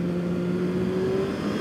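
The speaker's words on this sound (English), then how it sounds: "it shifts up into gears very nicely" A custom turbocharged Honda CBR900 motorcycle with a homemade quick shifter revs hard, giving a loud, steady engine drone that rises slightly in pitch, with no pauses or voices.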